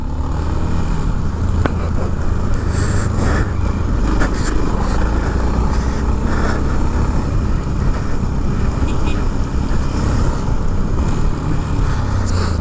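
Steady, loud engine drone from a moving Yamaha XT660 motorcycle, with heavy wind rush across the microphone throughout and no talking.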